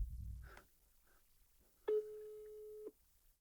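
A single steady electronic phone tone sounds for about a second after a few faint blips, quiet and alone.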